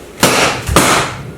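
Palm heel strikes hit a handheld training pad in a solo pad drill: two sharp, loud slaps about half a second apart, close up, each with a short ring, and no speech.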